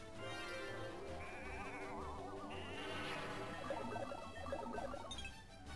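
Sheep bleating from the Final Fantasy Tactics Advance video game, a repeated wavering bleat over looping game music with soft chiming effects, steady and fairly quiet.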